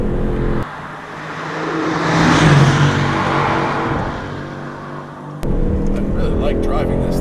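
A 2019 Aston Martin Vantage drives along a winding road, heard as a loud, close cabin rumble that swells and eases as the car accelerates, while a person talks over it.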